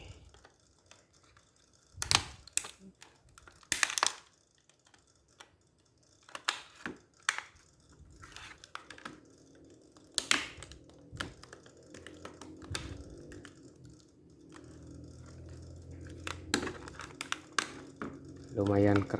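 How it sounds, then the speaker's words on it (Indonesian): Sharp plastic clicks, snaps and scraping taps sound as a tool pries at the plastic casing of a laptop battery pack, spaced irregularly and fairly close, with someone talking quietly throughout. "untuk cara membuka casing baterai laptop ataupun mengeluarkan sel dari baterai pack ini"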